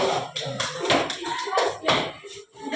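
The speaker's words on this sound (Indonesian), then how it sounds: "Tepuk tangan untuk kelompok" Classroom applause for a student group during a lesson, a burst of uneven hand clapping from pupils and teacher lasting a few seconds, close and fairly loud.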